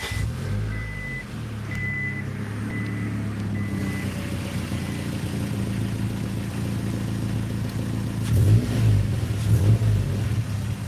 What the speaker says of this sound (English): It's a Cherry Bomb Turbo, I want to say, but just a little something, and it actually sounds a little bit deep and throaty